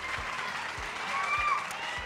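Applause from a stand-up comedy crowd forms a continuous, moderately loud patter of many hands, with faint voices mixed in and occasional low thuds.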